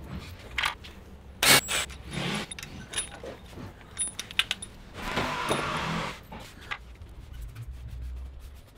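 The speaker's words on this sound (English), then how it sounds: "I got a handful of these bolts right here. I'm gonna put those down." A handful of metal engine bolts from a VQ engine being set down, brief clinking and metallic jangles, with rubbing and scraping handling noises scattered through a quiet workshop setting.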